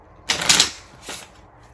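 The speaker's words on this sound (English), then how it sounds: "I'm gonna shuffle." Two quick riffling bursts of playing cards being shuffled, close and crisp, the first longer and louder than the second.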